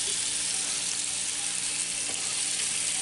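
Onions sizzle steadily in a Dutch oven, a dense bright crackle of frying with faint scraping as they are stirred, close and continuous with no talk.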